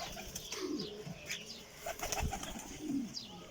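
Pigeons coo in soft, low repeated phrases at close range, with a brief flutter of wings and faint chirps in a quiet outdoor setting.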